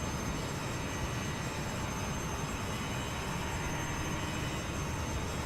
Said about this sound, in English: That is a loud plane.